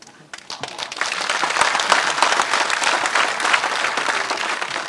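Crowd at a Maharashtra political rally breaks into loud applause, starting with a few scattered claps then swelling within half a second into dense, sustained clapping that stays strong to the end.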